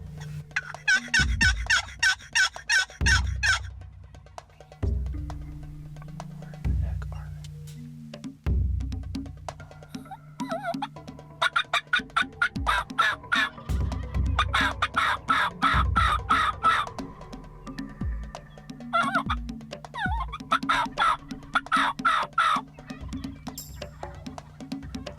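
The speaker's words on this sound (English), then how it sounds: "There's another turkeys over there. They're following." Wild turkeys gobbling during a spring hunt, repeated loud rattling gobbles in bursts across the clip, some near and overlapping, with quiet talk between calls.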